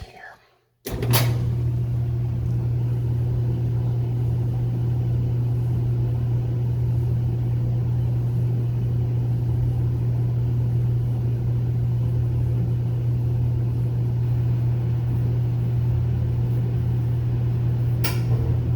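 Gas clothes dryer running after a click, settling into a steady loud low hum and drum rumble that continues evenly, ending with another faint click.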